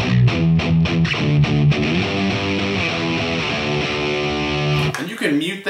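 Distorted electric guitar plays a riff, with repeated palm-muted low notes and octave figures in a steady rhythm, close and loud, ending in a brief open-string ring.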